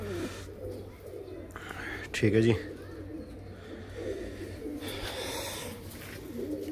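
Pigeons coo in low, repeating calls at a pigeon keeper's loft, steady throughout, while someone talks briefly and a short clattering thump sounds near the middle.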